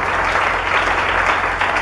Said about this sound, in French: Acclame bien cette voix.